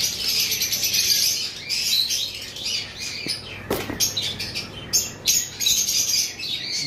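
Birds call at a bird seller's stall, blue macaws among them, with many overlapping chirps and squawks coming close and loud, plus a brief flutter of wings.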